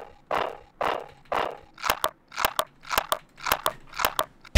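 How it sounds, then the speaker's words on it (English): Keyboard key presses triggering the green skull meme sound effect: three longer crunchy bursts followed by six sharp doubled crunch-clicks in a quick, even rhythm, close and clear with no talking. "wrote a Python script that intercepts your key presses, made it play the sound for keys, space, backspace, and enter"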